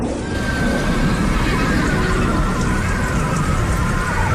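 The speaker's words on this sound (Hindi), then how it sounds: "जब बारिश होती है तो ये पानी से मिलकर सल्फ्यूरिक एसिड बनाती है" Heavy rain pours down steadily as a dense, loud hiss that stays constant from start to end, with no voices over it.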